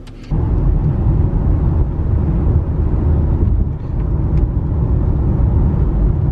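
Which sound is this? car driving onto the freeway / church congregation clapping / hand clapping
car driving onto the freeway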